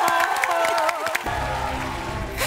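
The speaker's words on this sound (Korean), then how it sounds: "박수를 주거라" A studio audience at a sketch-comedy taping claps amid music, with a rising crowd swell toward the end.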